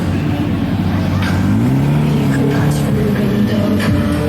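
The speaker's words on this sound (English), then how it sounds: "Bunch of cars arriving from La Jolla." Steady rumble of engines idling and rolling in as a group of cars arrives at a Cars & Coffee car meet, with a low continuous motor drone and faint voices in the background.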